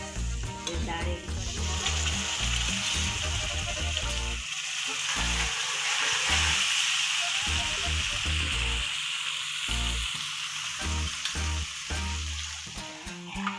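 Boiled dal poured into a sizzling tempering pan for dal fry, loud close frying hiss and crackle with bursts of stirring and scraping throughout, no voices.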